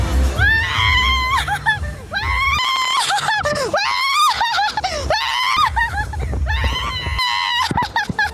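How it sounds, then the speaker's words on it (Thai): People scream on a drop ride at the Ventura County Fair in California, loud rising and falling shrieks from several riders overlapping in waves over a low mechanical rumble. "ได้ยินเสียงกรี๊ดไหมล่ะ"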